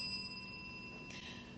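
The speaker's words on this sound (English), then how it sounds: "when your time is done, she will ring a bell like so." A hand bell rings at a parish president political forum to signal that a speaker's time is up. It gives a steady, ringing tone that lingers, fairly faint and heard alone.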